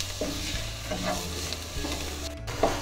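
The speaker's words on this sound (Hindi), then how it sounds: "मिक्स करते हुए फ्राई करेंगे ताकि मैदे का जो कच्चापन है वो चला जाए" Flour being stir-fried with other ingredients for a Turkish chicken soup, with a steady low sizzle and several scraping stirs of a spoon against the pan, close and continuous.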